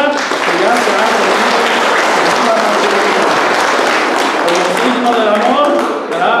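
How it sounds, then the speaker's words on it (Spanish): Guests at a civil and religious wedding give the newly married couple loud, sustained applause, dense clapping up close with scattered cheers and voices mixed in. "Pero ya son esposos, entonces vamos a darle un fuerte aplauso a Jaime y a Rosa, que ya se han"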